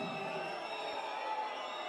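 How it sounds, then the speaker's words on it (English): A basketball arena crowd at a Basketball Champions League game between Nanterre 92 and Aris reacts to a foul call with a broad, distant murmur of voices and scattered whoops, steady and moderately faint. "Crowd didn't like that one."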